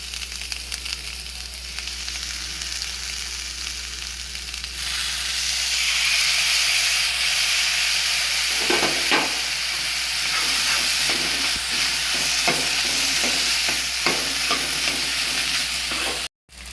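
Soaked spice paste hits a hot pan and erupts into loud, steady sizzling and hissing, with occasional stirring scrapes layered over the frying for a long stretch before it cuts off abruptly.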